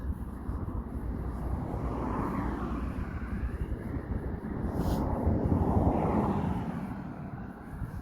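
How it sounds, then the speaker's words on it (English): Cars pass along a road at night in a continuous broad rushing roar, with two slow swells as vehicles go by, fairly loud and steady, with wind buffeting on the microphone and no one talking. "there are a lot of cars going past me"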